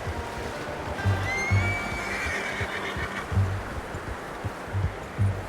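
A horse neighs in the Red Dead Redemption 2 video game, a drawn-out whinny over an outdoor ambience of rustling and low hoof-like thuds, moderately faint and without speech.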